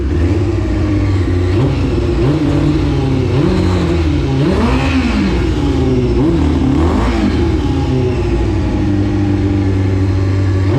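A Yamaha R6 sport motorcycle engine idles roughly up close, failing to gain revs and stalling, its pitch repeatedly rising and falling as the throttle is blipped, loud and continuous throughout.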